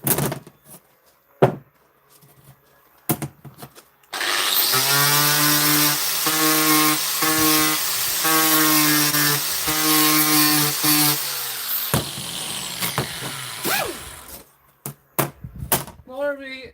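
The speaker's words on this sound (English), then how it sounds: "Another wee pneumatic sanding tool." Small pneumatic sander running on a 304 stainless steel weld, a steady harmonic whine lasting about eight seconds, loud and close, with brief knocks and taps before and after.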